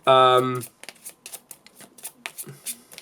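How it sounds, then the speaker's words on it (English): A short vocal tone opens, followed by a rapid run of soft, papery flicks and riffles of Yu-Gi-Oh trading cards being shuffled, close and fairly quiet. "we're going to have to just randomly shuffle up and choose"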